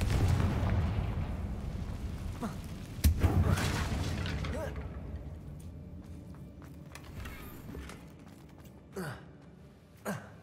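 Confringo fire-blast spells in the Hogwarts Legacy video game: a sharp blast near three seconds, then a few fainter bursts, all over a dense, rumbling battle din.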